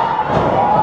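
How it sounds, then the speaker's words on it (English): A wrestling crowd at an OWA show shouts and cheers, a loud, dense roar of many voices sustained through the brief moment. "Crowd trying to get Hunter and Skull in here."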